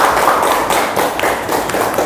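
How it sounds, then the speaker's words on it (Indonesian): Dense, steady clapping from a crowd fills the whole stretch with no pauses, loud and close. "Oke, tepuk tangan dulu untuk kita semua."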